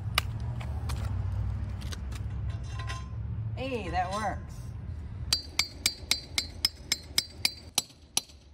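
Metallic strikes of a carpenter's hammer ring out on steel tubing for a handrail, about a dozen evenly spaced clanks, after a stretch of muffled activity and a brief voice.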